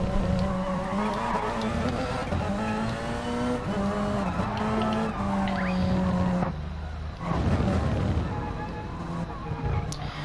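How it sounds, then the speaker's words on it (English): A Porsche race car engine in a racing video game, holding a loud, sustained high-revving drone with shifting pitch and brief tyre-squeal edges, with a commentator talking over it. "He's pushing every worth of that Porsche it's got."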